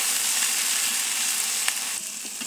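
Cauliflower frying in a pan as chilli powder, salt, turmeric and ground coriander are stirred in; a steady, close, bright sizzle runs throughout with a couple of faint scraping touches near the end, and no voices.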